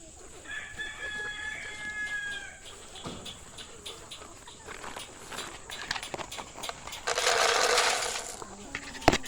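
Chickens clucking and a rooster crowing, an early drawn-out call followed by scattered clucks and a louder burst of calling near the end, with a voice briefly audible.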